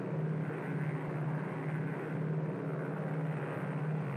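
Steady airplane engine drone in the Callahan's Crosstime Saloon video game, a continuous loud propeller hum with a strong low tone holding evenly throughout, no voices.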